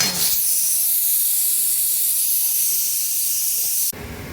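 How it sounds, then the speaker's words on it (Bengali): Chopped onion hits hot oil and sizzles loudly with a strong, steady hiss close by that runs for several seconds before cutting off abruptly. "পেঁয়াজ কুচিটা তেলের ভিতরে দিয়ে দিলাম। নাড়াচাড়া করে নিচ্ছি।"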